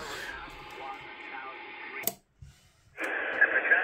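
Steady static hiss from a Uniden Bearcat scanner tuned to the civil air band cuts off abruptly into near silence with a click, then returns loud and harsh with interference.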